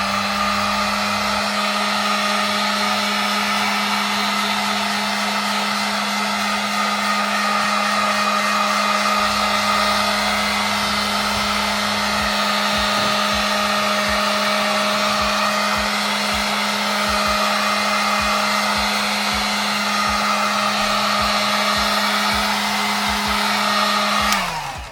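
A heat gun blows a continuous, loud, steady hum with an even airflow hiss while post-heating paint-matched reflectors, running alone without pause throughout.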